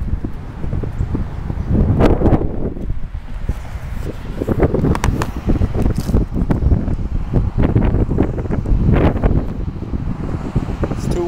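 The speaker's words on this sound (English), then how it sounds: "It's too windy." Outdoors on a field, strong wind buffets the microphone in loud, rumbling gusts that swell and fade throughout, masking everything else with a heavy, uneven roar.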